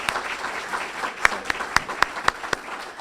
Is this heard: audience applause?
yes